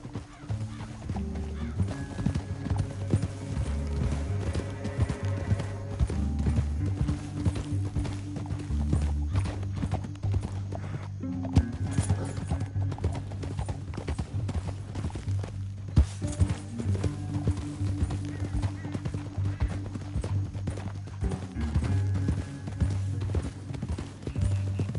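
Horses gallop in Red Dead Redemption 2, a fast, continuous clip-clop of hooves running close by over a low musical score, with occasional whinnies.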